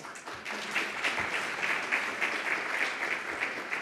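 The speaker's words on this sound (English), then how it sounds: "please give them another round of applause" Steady audience applause at a Namibian public-private forum, greeting the UNDP Deputy Resident Representative as a panelist; dense, even clapping from a crowd fills the room throughout without talk.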